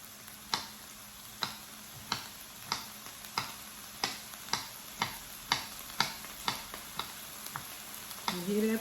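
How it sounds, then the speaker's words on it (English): Bell pepper, onion and celery fry in a pan with a steady sizzle, while sharp regular knocks, roughly one per second, from knife chopping or smashing garlic nearby ring out over it. "You hear that pan sizzling?"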